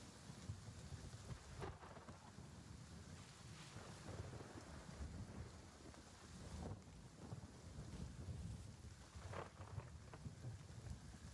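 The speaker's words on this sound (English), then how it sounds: "I love the sound of a storm." A thunderstorm with steady heavy rain and wind rumble, broken by several deep rolling thunder cracks spaced a few seconds apart, loud and enveloping with no voices.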